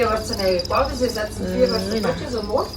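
Crickets kept as live pets or feeder insects chirp steadily up close, a dense, continuous trill with rhythmic pulses running through the whole stretch.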